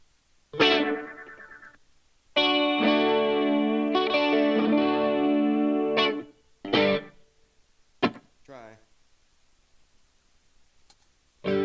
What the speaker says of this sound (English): Is the guitar too loud?